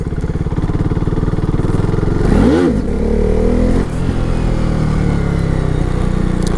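A used KTM Duke 390 single-cylinder motorcycle idling loud and close with a steady throb, then revving up sharply once and dropping back to a rumbling idle.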